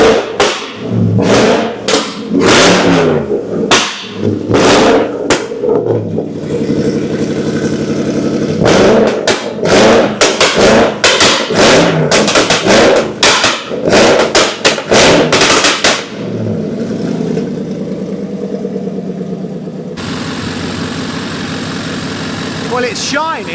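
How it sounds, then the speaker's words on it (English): A supercharged 5.0 V8 in a Jaguar XFR cold starts and is revved hard over and over. The roars are loud and close, come in repeated sharp bursts and fall back to a rough idle near the end. "Now that's a cold start."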